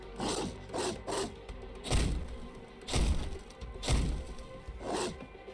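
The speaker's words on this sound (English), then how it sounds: "Oh my god, they're really banging the door." Monsters pound on a door in Goddess of Victory: NIKKE: six heavy, booming thuds about a second apart, each with a woody rattle and crack, loud and alone with no talk.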